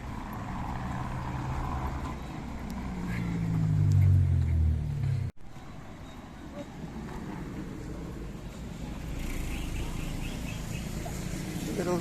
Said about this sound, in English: Look at all these roosters.